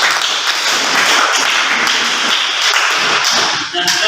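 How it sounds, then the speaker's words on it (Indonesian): A classroom group applauds students returning to their seats after a presentation, a dense, loud burst of many hands clapping steadily for about four seconds, with a voice mixed in underneath. "Ya, jadi sekali lagi kita berikan aplaus yang meriah."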